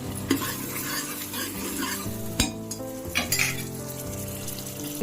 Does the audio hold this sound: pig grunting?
no